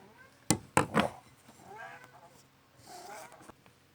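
A cat lets out a quick run of loud, close meows, then softer, lower murmuring cat sounds follow with quiet pauses between them.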